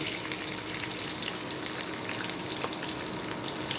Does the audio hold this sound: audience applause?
no